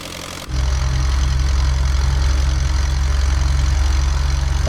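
A Nord 3202 aircraft taxiing in Microsoft Flight Simulator: the engine starts up abruptly and settles into a loud, steady low drone with a fast pulsing throb, continuous and close, with no voices.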